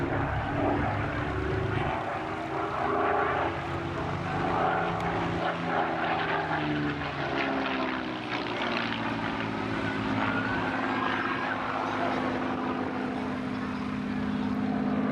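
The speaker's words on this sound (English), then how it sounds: "Rolls-Royce Merlin and later the Rolls-Royce Griffin engine" A Spitfire's Rolls-Royce propeller engine drones loudly and steadily as the plane passes at an air festival, a rich rumbling roar that holds for the whole stretch.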